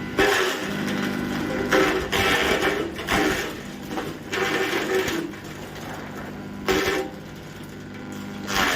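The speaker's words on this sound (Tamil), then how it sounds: "இதில் வச்சோம்னாலே தானாக உள்ளே போய் கட் பண்ணி சின்ன சின்ன துண்டுகளாக வெளியே வந்துடுது" A sugar cane cutting machine chops cane into small pieces, running with a loud continuous mechanical whir and hum punctuated by repeated chopping surges roughly every second, close by, with little talk.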